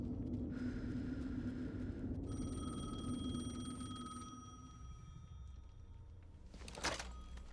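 A telephone ringing in the Alan Wake 2 video game, a steady electronic bell tone sounding over low rumbling ambience, then fading, followed by a brief clatter near the end.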